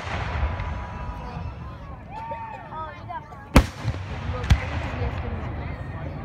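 Fireworks at an outdoor show go off as two sharp distant bangs a second apart, over steady crowd noise and people talking nearby.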